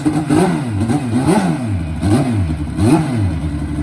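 Old-school Kawasaki KZ drag motorcycle engine revving hard several times in a row at a drag strip, each blip rising and falling, loud and close.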